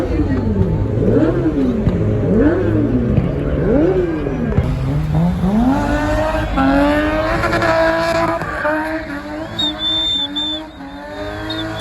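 Several cars rev and accelerate at a South African car meet, among them a 1994 Golf MK1, with loud rising and falling engine sweeps, squealing tyres and crowd voices throughout.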